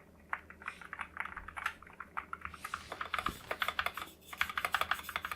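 Rapid typing on a hot-swappable mechanical keyboard fitted with Akko Rosewood switches: a quick, soft stream of muted clacks and taps, fairly quiet and close, with no voices over it.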